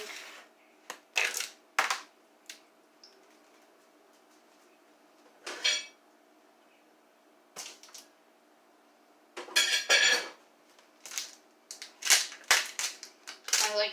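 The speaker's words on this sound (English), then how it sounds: "I am all done with my knife and my cutting board. Just put that in the sink." A knife and cutting board put into a kitchen sink, giving scattered sharp clatters and clinks of metal and board against the basin, loud and close, separated by short quiet gaps.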